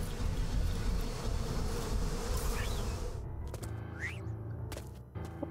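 Bees buzzing in Psychonauts 2, a steady dense drone filling the first three seconds, then thinning to faint scattered buzzes among brief clicks and a short rising tone.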